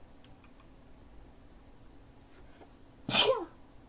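A single sharp sneeze bursts out near the end, loud and close after a stretch of quiet room tone with faint ticks.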